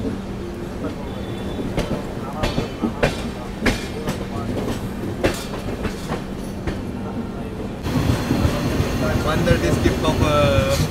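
Basava Express running from Mysuru towards Bagalkot with new LHB coaches, heard from inside as a continuous rumble with rhythmic wheel clacks and a rise in loudness toward the end, with faint background chatter.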